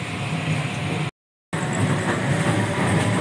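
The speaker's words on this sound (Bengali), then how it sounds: "ট্রেন এইমাত্র জাস্ট ডানকুনি স্টেশন থেকে ছাড়লো।" A passenger train pulling out of Dankuni station rumbles steadily and close, with broadband rolling rail noise that cuts out briefly before resuming just as loud.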